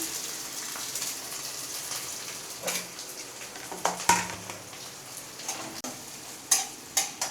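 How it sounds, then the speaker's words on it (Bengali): Three chopped onions fry in a kadai, giving a steady close sizzle broken by occasional sharp clinks and scrapes from stirring, with no voices. "পেঁয়াজ 3টে পেঁয়াজ কেটে নিয়েছি, এটা এবারে কড়াই দিয়ে দিলাম"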